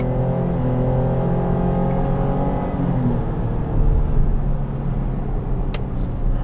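A 2021 GMC Acadia AT4's engine runs steadily as the transmission drops two gears, the low drone holding with faint whine and rising briefly in a mild surge midway, heard close from inside the cabin with no talk.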